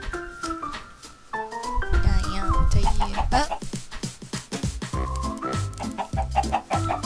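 Several Minecraft chickens cluck and squawk in quick, uneven bursts over a busy background of layered tones, fairly close and lively.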